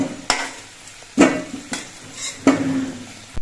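Fried potatoes lifted out of a kadai with a metal spatula, a few sharp scrapes and clinks against the pan over a soft background sizzle, close and with no voices.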